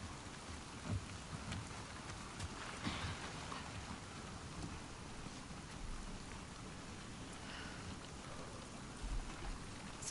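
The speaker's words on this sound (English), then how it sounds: "Let's get out of the rain." Steady rain falls in the video game The Last of Us Part II, a continuous faint hiss of drops on surfaces with low thunder-like rumbles, and no one speaks.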